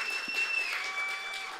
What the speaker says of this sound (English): Let's do a round of applause